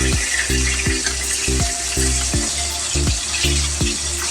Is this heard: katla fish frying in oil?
yes